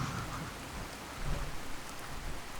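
Steady rain pours in a thunderstorm in the video game Fallout 4, with a low thunder rumble swelling midway through the dense, continuous downpour.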